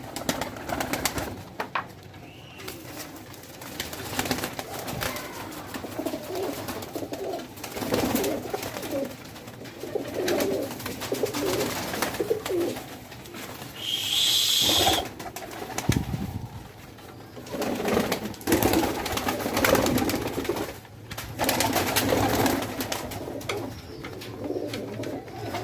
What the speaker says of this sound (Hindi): माशाल्लाह बहुत ही आला क्वालिटी के कबूतर